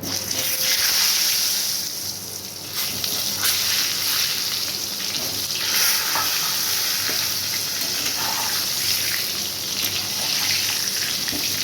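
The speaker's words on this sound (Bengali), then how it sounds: "আলুটা ফ্রাই হতে থাক" Potatoes fry in hot oil seasoned with salt and turmeric for a Bengali-style mutton dish, a loud, steady sizzle that runs unbroken for the whole stretch with no talking.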